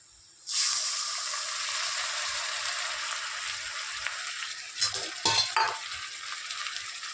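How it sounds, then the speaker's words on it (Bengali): Ginger-garlic paste hits hot oil over onions for chicken pulao, a sudden loud hiss that settles into a steady sizzle, followed by a few spoon clanks and stirring scrapes near the end. "পেঁয়াজটার ওপরে এবার এই আদা রসুন যে পেস্টটা রাখা আছে এটা দিয়ে দেব"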